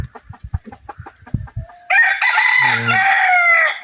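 Close by, a red junglefowl rooster gives one loud, drawn-out crow that follows a series of short clucks.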